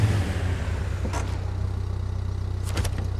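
A truck engine in the MudRunner video game rumbles loudly and steadily at idle, a close low pulsing drone with a couple of brief clunks over it, and no talking.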